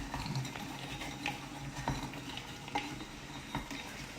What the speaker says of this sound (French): nos noisettes, on les remue un petit peu de temps en temps